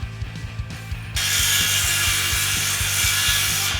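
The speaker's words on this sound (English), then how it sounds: "I got started on cutting the 2x4s." Handsaw cutting through 2x4 lumber, close and steady, with a dense rasping stroke noise that swells after a second, over a rapid mechanical ticking throughout and no talk.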